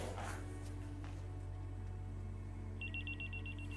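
A telephone rings in an indoor scene of an Indonesian TV drama, its electronic ringing tone repeating in quick, steady pulses over a constant low hum, moderately faint and with no voices.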